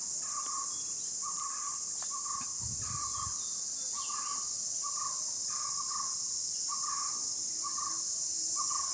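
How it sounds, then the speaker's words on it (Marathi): Birds calling around a village in the morning, a repeated short chirping note recurring every half second or so over steady insect hiss, moderately close and with no talking. "आता ह्या सकाळच्या टाईमला इकडे पक्ष्यांचा आवाज वगैरे एवढा येतो ना"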